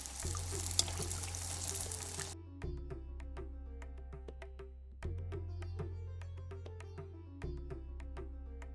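Hot oil is ladled over Jharkhand dhuska frying in a pan, producing a loud, steady sizzle and bubbling with a splashy pour at the start, then sharp crackling pops that recur in waves.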